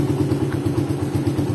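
A Suzuki Satria FU motorcycle engine fitted with a PE28 carburetor runs at a steady, throbbing low pulse, loud and close, with no voices.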